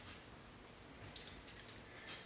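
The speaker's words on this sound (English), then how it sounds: "Water them in." Lettuce and greens seedlings are watered with a quarter-strength fertilizer solution, giving a faint, soft trickle and patter of liquid that runs low and steady for a couple of seconds.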